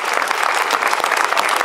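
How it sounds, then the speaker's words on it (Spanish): Dense, steady applause from a large audience fills the hall without pause, a continuous wash of many hands clapping at once at a ceremony honoring the metropolitan archbishop of Tarragona. "Barca, arzobispo metropolitano de Tarragona, un aplauso para él, por favor."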